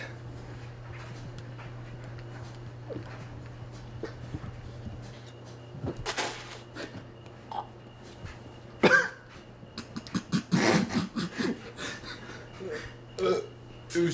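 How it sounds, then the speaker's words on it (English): A person burps several times, loud close belches and throat sounds breaking over a steady low hum, with scattered clatter in a quiet room. "It was just a burp."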